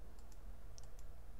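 A computer mouse is right-clicked, heard as a few faint, short clicks spaced across a second over a steady low background hum.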